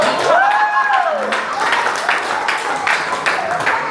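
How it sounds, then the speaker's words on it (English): Audience applause greets a guest being introduced on stage, steady clapping under whoops and a raised voice that rises over it early on, carrying on throughout. "Big round of applause."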